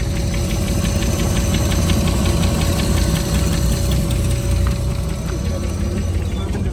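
An engine with a carburetor fault runs steadily nearby, a loud constant rumble with a fast knocking pulse throughout.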